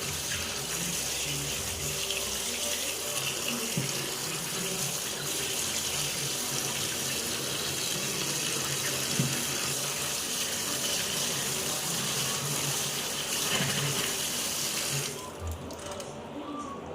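Steady running tap water splashing into a sink as drained pasta is rinsed, continuous and fairly loud, with the flow cutting off near the end.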